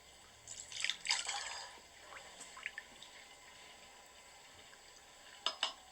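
Water poured into a jacuzzi in Salvador, Bahia, Brazil, heard as faint splashing trickles in short bursts near the start and again near the end, with quieter drips between.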